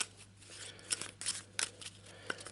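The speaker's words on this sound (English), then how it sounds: "So we'll give those a bit of a shuffle." Cardboard tiles for the board game Waste Knights get shuffled by hand on a table, a series of quick scraping, clacking slides in irregular bursts, close and fairly quiet.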